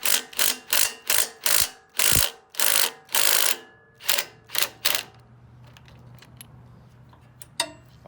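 Ratchet clicking in quick bursts while loosening the intake on a John Deere RX95 riding mower, about ten loud close rapid ratcheting runs, then a quiet pause with a low hum and one last click.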